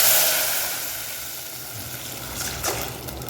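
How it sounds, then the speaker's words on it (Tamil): Water pours into a hot pot for jeera ghee rice with a rushing hiss and faint sizzling, fairly quiet and steady, splashing a little more toward the end. "இப்போ தண்ணி ஊற்றுறேன்"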